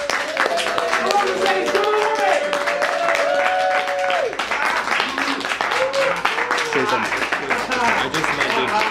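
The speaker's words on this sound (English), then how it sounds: "you're going to clap really hard and sort of get the roof off" A comedy club audience claps loudly and continuously while people talk and call out over it.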